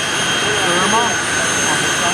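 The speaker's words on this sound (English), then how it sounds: "Chuck Haynes, the Volcano, spooling up." A jet dragster engine spools up with a steady, loud roaring whine that fills the scene, and someone talks over it.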